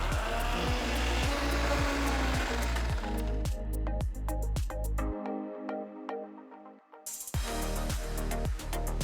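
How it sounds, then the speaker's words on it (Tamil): Mixer grinder blending masala with a little water, fresh mint and coriander into a paste for mushroom biryani. A loud, steady whirring motor is cut by pulsing bursts, stops briefly, then roars back up close. "ரெண்டு டீஸ்பூன் தண்ணி ஊற்றி மசாலாவை நல்லா பேஸ்ட்டாக அரைச்சிக்கோங்க."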